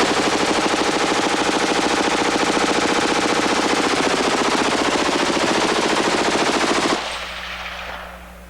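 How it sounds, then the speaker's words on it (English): Rapid, continuous booming gunfire from a .50 Alaskan J.D. Jones custom rifle firing 750-grain bullets, loud and close for about seven seconds before cutting off abruptly into a fading echo and hum. "50 caliber Alaskan. This is J.D. Jones custom gun."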